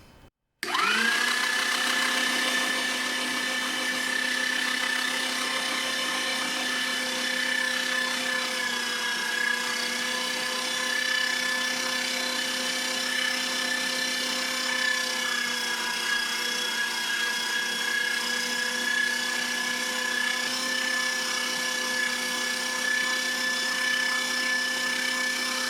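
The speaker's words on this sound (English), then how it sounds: "And as of the grinder, I choose the smallest plate for this. And it's getting a little bit loud now." An electric meat grinder fitted with its smallest plate minces fish, running with a loud, steady motor whine and a constant droning hum that hardly varies for the whole stretch.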